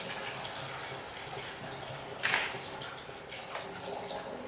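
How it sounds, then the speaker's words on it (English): Fermented kombucha poured through a funnel into a bottle, a soft steady trickle of liquid running throughout with one brief louder splash midway. "I put the funnel in and I'm going to put the fermented kombucha in here."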